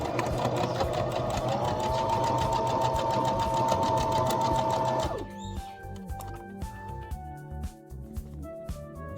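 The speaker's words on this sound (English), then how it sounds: "So I'm folding over the fabric to sew it for the armholes." A sewing machine stitches fabric folded over for armholes, running with a loud, fast, steady whir for about five seconds. It then stops, leaving quieter clicks and mechanical rattles.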